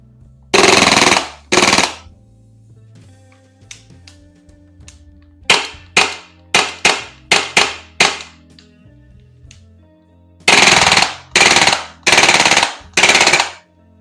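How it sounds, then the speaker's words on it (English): Maruyama MP9 gas blowback airsoft gun fitted with a mock suppressor firing in several bursts, sharp rapid clacking shots in quick strings separated by pauses, close and loud with no talking. "the mock suppressor does make a big difference in how loud the MP9 is"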